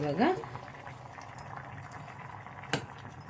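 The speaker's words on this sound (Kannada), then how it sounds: "ನೋಡಿ, ಚೆನ್ನಾಗಿ ಕುದೀತಾ ಇದೆ" Water for mango jam boils in a pot with soft, steady bubbling close by, a brief voice at the start and a sharp clink near the end.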